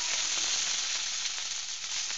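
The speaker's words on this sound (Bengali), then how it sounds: "এটাকে আমি এবার নেড়ে চেড়ে ভাজবো" Chow mein noodles frying in a small home kadai, giving a loud, dense, continuous hiss of sizzling oil with faint stirring and no voices.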